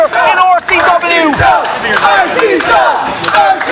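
A wrestling crowd in Cork roars continuously, with cheering, shouts and chanting voices layered into a dense, loud arena din throughout.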